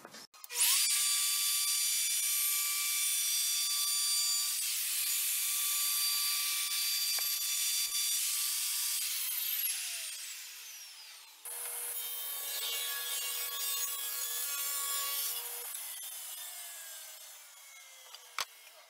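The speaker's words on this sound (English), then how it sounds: "I'm going to start roundovering these edges and then ripping them into strips" Power woodworking tool cutting along wood edges for a roundover, then ripping the boards into strips for fish tank stand molding, a loud steady high-pitched whine that drops away at about 11 seconds and restarts for a second continuous run, with no talk.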